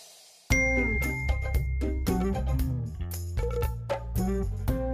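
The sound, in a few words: phone message notification chime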